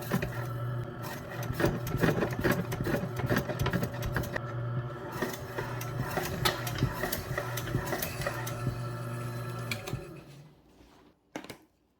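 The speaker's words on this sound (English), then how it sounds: "we just finished up slicing on the LEM Slicer" A LEM electric meat slicer cuts smoked venison with a steady motorized whir and rapid repeated clicking of the blade through the meat. It runs continuously for about ten seconds, then stops and is followed by a brief clatter.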